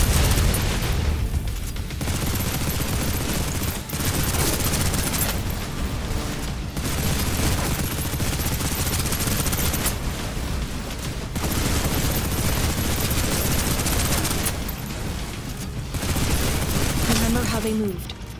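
Sustained suppressive gunfire from a squad in the video game Snowbreak, dense and loud bursts of shooting running almost nonstop with brief gaps, mixed with other battle sounds.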